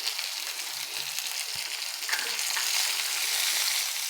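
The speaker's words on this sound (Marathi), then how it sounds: "आता घालू शिमला मिरची तीसुद्धा आपल्याला थोडीशी परतून घ्यायची आहे हाय फ्लेमवरच ठेवायची आहे" Capsicum stir-frying on a high flame for veg hakka noodles, a steady bright sizzle throughout with a few soft spatula scrapes near the start, no voices.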